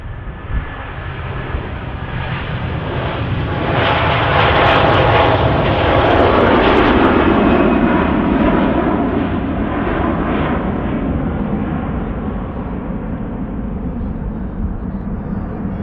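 An airliner jet takes off at Manchester Airport, a loud, continuous roar that swells over several seconds and then holds as a broad, rushing drone heard from outdoors at a distance.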